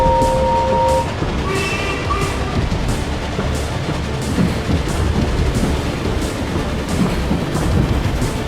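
Two steam locomotives double-heading a train away from a station, a dense continuous rumble and churning roar with a faint whistle early on, steady and close throughout.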